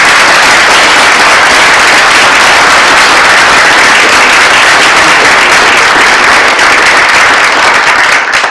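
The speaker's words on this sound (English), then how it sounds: "Let's give one last round of applause." Loud, dense audience applause after an astronomy talk on planets surviving their host star's death, a continuous roar of many hands clapping at once without pause.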